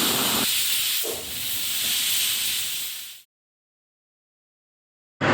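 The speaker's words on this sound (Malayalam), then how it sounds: "2 വിസിൽ വന്നതിന് ശേഷം ഓഫ് ചെയ്ത് മാറ്റി വയ്ക്കുക." Loud, continuous steam hiss of a pressure cooker whistle while cooking sprouted green gram, cutting off abruptly into silence before bursting back briefly at the end.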